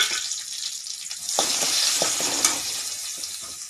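Ground garlic, cumin and pepper paste sizzles in a pan for Tamil horse gram rasam, with a bright hiss that swells louder partway through, close and steady with faint stirring.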